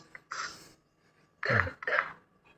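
A woman with whooping cough gives three harsh, close coughs in quick bursts, separated by short pauses of near silence.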